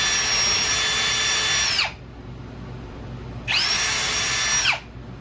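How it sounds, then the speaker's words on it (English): A power drill bores through a wooden board backed by a piece of cardboard, two loud sustained whining bursts of about two seconds each, the pitch dropping as each one winds down, with a quiet pause between them. "So I'm gonna drill through this one."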